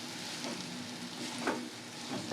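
Bombay duck (bombil) fish curry stirred in a pan, giving a steady close sizzle with a few soft scraping strokes of the spoon against the pan.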